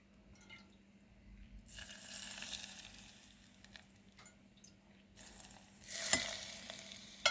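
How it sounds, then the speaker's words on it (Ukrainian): Hot boiled oil sizzles and crackles over tomatoes in two bursts, a quiet frying hiss that swells, fades, then returns with sharper pops. "коли отакий слой положила зверху кип'ячену олію. Чуєте, як шкварчить?"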